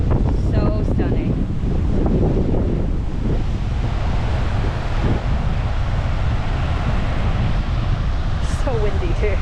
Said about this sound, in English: So windy too.